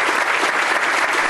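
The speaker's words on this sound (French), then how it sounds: "Un grand applaudissement pour lui." Sustained applause from a church congregation honoring a pastor from Bridgeport, a dense, steady wash of many hands clapping together with no voices rising above it.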